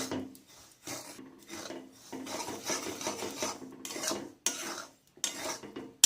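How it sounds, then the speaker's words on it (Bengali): Semolina is stirred and dry-roasted in a dry wok, giving repeated rhythmic scraping and rasping strokes against the metal, close and clear with short pauses between bursts. "এবার শুকনো কড়া এর মধ্যে দিয়ে দেব এটাকে নাড়ব অল্প একটু হালকা করে ভেজে নেব"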